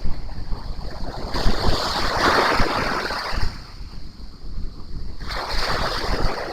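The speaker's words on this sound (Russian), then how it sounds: "Меня тут замывает просто волной." Indian Ocean waves wash onto a black sand beach in Bali, surging and receding loudly up close, with strong wind buffeting the microphone.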